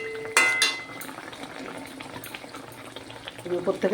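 Paishe fish curry simmers in a cooking pot, a soft steady bubbling broken by a couple of sharp utensil clinks near the start and more clatter toward the end, with low speech-like sounds faintly underneath.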